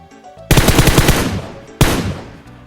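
Two loud bursts of automatic gunfire in the mobile battle royale game PUBG Mobile, a rapid rattling volley followed by a second short burst, close and prominent with no talk.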